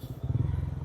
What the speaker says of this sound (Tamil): செயின் வந்து துடிக்கும்.